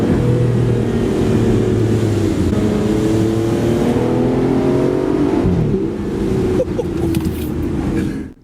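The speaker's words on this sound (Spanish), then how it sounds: "Así es como debería sonar un coche deportivo." An Aston Martin sports car engine revs hard and accelerates, loud and close, its pitch climbing repeatedly through the gears before easing off at the end.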